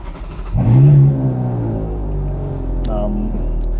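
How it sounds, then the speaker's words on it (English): A Ferrari 430 Scuderia engine cranks and fires up via a start button with a loud rising roar, then settles into a deep rumbling idle nearby. "So you start as an F1 on the brake pedal, engine start button"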